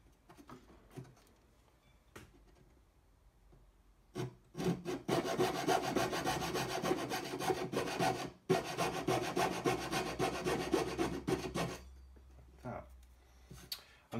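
A wooden jeweler's bench pin is sawn at its corners: a quiet lead-in with light taps gives way to a dense, steady run of close rasping saw strokes, then a short pause and a few final strokes.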